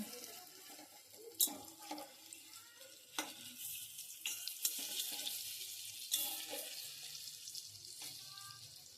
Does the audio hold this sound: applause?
no